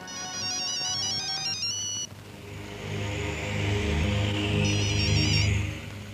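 A synthetic phone ringtone plays a repeating melodic pattern for about two seconds, then stops, leaving rumbling background noise, with a brief faint electronic chirp later.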